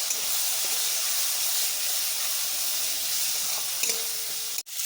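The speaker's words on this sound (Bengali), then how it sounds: "সব মশলাগুলোকে দিয়ে এবার খুব ভালো করে কষিয়ে নিতে হবে।" Ground coriander, cumin, chilli and turmeric sizzling in oil in a pan for mutton kofta curry, a steady close hiss throughout, with a sharp clack near the end.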